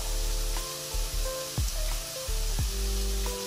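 Sliced onions fry in a pan with turmeric, salt and chili powder for a Bengali fish curry, giving a steady close sizzle with intermittent stirring scrapes and no talk.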